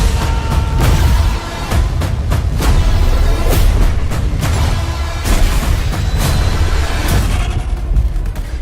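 Incoming artillery fire in a Battlefield game trailer, a rapid series of loud, deep booming explosions and sharp bursts, closely spaced and rumbling without pause.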